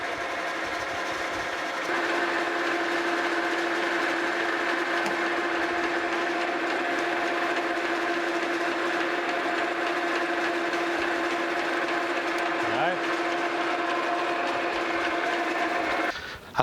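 A metal lathe cuts steel stock for a mill vise threaded rod in a heavy cut, a steady close mechanical whir with a constant tonal whine running unbroken throughout.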